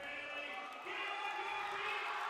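Crowd noise fills a high school basketball gym during a Region 9 game between Pine View and Desert Hills, a steady, loud roar that swells louder partway through as the final seconds approach.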